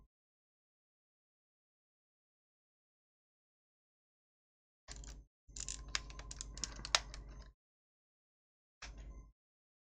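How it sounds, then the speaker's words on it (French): Computer keyboard keycaps being handled and cleaned up close: bursts of clicking and rattling plastic clatter, one short burst, a longer busy stretch, then another brief burst, separated by silence. "Je vais nettoyer mes touches de clavier"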